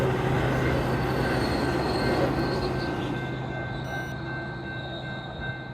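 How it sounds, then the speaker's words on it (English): A train rolls past near a busy street at around 5:30 p.m., a loud, steady rumble of wheels on rails with a high metallic squeal, slowly fading as it moves away. "and a train."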